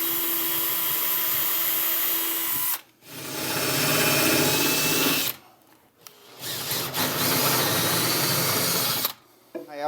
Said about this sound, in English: So I go ahead and shoot a little pilot hole right here.